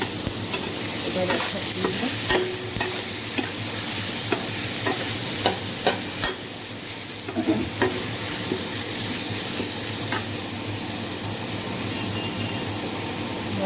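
Spice tempering for a soybean dish sizzles loudly in a hot pan while a spoon stirs and scrapes, with brief clinks; a voice speaks briefly over the frying.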